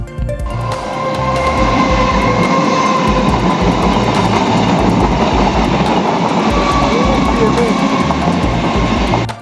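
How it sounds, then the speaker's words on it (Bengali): A train passes very close and loud, its heavy rumble and rhythmic wheel clatter holding steady from start to finish. "ট্রেনটা চলে গেল"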